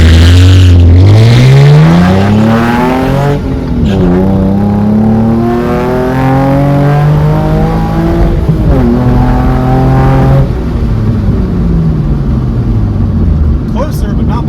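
A sports car with no launch control accelerates hard along a road, its engine note climbing loudly through several gear changes, with a voice talking over it.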